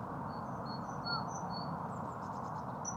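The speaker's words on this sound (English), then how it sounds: "Birds singing." Thin, high bird chirps and whistles repeat faintly over a steady rushing background hum, distant and sparse.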